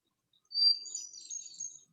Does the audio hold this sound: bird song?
yes